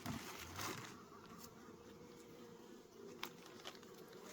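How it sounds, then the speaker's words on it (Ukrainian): A steady insect buzzing of many bees at a hive feeder fills the background, droning continuously with a few faint clicks and bumps on top. "Дивіться, бджоли теж уйма хватає."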